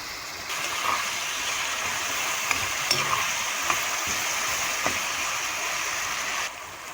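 Fried rice stir-frying with soy sauce and Schezwan chutney in a pan, giving a continuous broad sizzle with scattered light scraping clicks of a spatula.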